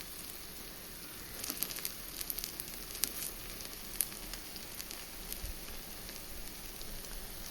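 Sweet rava appam fries in oil in a pan, a faint continuous sizzle with scattered crackling pops, heard close with no talk.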